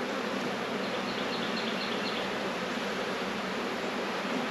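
Honey bees hum in a dense, continuous buzz close by at an open farm hive, a steady swarm drone with no talking.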